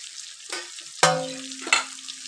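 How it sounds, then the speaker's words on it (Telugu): Chopped capsicum and turmeric hit hot oil in a home kitchen pan, sending up a sudden sharp sizzle with a metallic clink, followed by a second fainter sizzling burst moments later. "ఇప్పుడు దీంట్లోకి కొంచెం పసుపు వేసేసుకొని, మంచిగా తరిగిన క్యాప్సికమ్ వేసేసుకుందాము"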